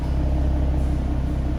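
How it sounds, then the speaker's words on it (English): A 2014 Ford Mustang convertible's exhaust chugging at idle, a loud, steady low rumble with a faint pulsing throb, close to the tailpipe and with no talking. "Nice little chug from the exhaust."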